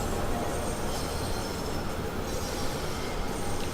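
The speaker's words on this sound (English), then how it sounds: "Are these unique train sounds that we've got going on here" A train in Train Sim World 2 rumbles along steadily, with a constant broadband roar and faint wheel squeal, loud and sustained throughout.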